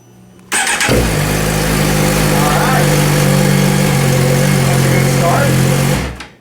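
A 2017 Suzuki GSX-R1000 motorcycle engine on a dyno cranks, fires and settles into a loud, steady idle that runs for several seconds before dropping off at the end.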